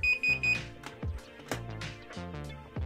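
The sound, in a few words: alarm buzzer beeping twice when disarmed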